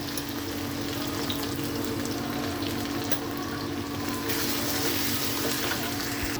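Onions fry in a pan with turmeric for an egg curry, a close and continuous crackling sizzle with a low steady hum beneath it, with no talking.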